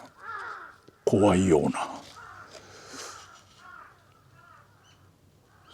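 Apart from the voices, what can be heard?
crows cawing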